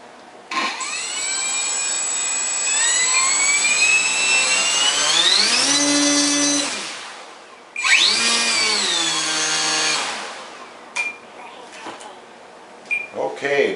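The electric motor of a Parkzone Sport Cub RC plane whines up to a high pitch, holds, winds down, then spins up again in a second run, loud and close, followed by a few faint knocks.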